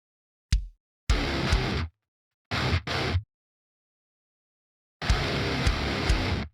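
Drum track playback for a bedroom music production, heard before kick drum mixing: four separate bursts of full-band drums, short hit then longer loud phrases with silent gaps between them, with no talking.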